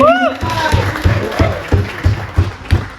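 An audience at a cricket auction breaks into applause to welcome founder Jiteshbhai Patel: loud, rhythmic clapping swelling from a crowd close by, with an announcer's voice heard at the start.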